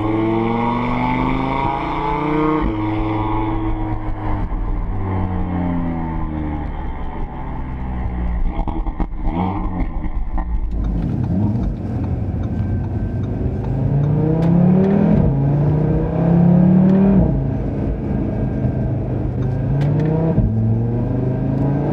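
A 2018 Audi RS3's turbocharged engine revs and roars loudly, rising and falling in pitch as the throttle is worked, with a deep rumbling exhaust throughout.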